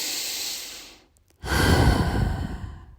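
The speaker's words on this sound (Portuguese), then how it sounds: "Respira profundamente aí, vai." A slow deep breath drawn in and let out during a guided breathing exercise, a long soft airy inhale, a brief pause, then a fuller, louder breathy exhale close to the microphone, with no talking.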